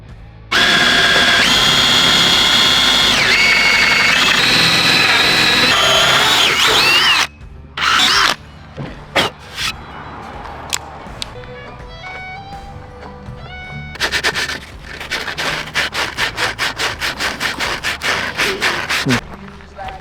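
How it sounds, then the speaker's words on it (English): A power tool cutting a hole in a sink lid at a riverbed campsite, a loud continuous close whine for several seconds, then broken bursts and scraping with rattling. "So we decided to cut the hole in the lid to keep the tap upright permanently."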